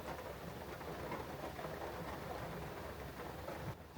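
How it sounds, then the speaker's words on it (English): Steady rain patters on the roof of a Volkswagen ID Buzz parked overnight in a driveway, an even dense hiss heard from inside the van, with no talking. "it was nice to listen to the rain on the car"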